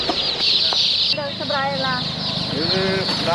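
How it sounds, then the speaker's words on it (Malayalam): Baby chicks for sale chirping, rapid high peeps in quick runs, close by, mixed with clucking and some voices nearby. "കുറേ കോഴിക്കുഞ്ഞുങ്ങൾ വിൽക്കാൻ വെച്ചിട്ടുണ്ട്."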